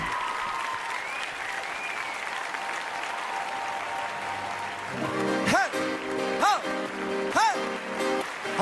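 Audience applause fills the hall in welcome of a singer at a televised Kazakh evening show, a steady dense wash of clapping under a host's voice, with cheering and shouts rising near the end.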